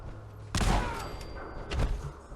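A grenade blast in the Fallout 4 video game lands as a sudden loud boom with a rumbling tail, followed by a second heavy burst about a second later, with no talking over it.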